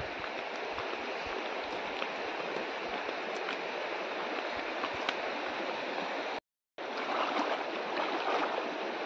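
Continuous rushing of flowing river water in a Konkan forest, steady and close, broken by a brief moment of silence near the end.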